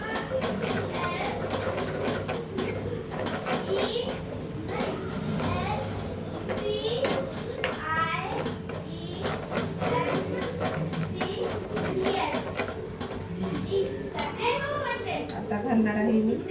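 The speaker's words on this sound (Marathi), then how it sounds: "मसाला परतून घ्यायचा." Masala sautéing in a pan for an egg curry, with steady sizzling, spoon scraping and clinks against the pan while someone talks and a voice is heard in the background.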